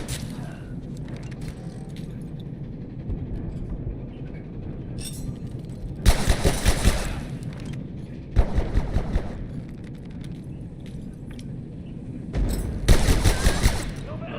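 Gunfire in the video game Abiotic Factor, several short loud bursts of rapid shots separated by quieter stretches of game noise and faint mechanical clatter.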